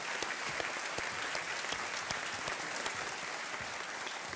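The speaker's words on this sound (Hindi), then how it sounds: "एक बार तालियों के साथ उनका अभिनंदन करते हैं" Studio audience applause on the Indian TV quiz show Kaun Banega Crorepati, a dense, steady burst of clapping that fills the whole stretch at even loudness with no voices over it.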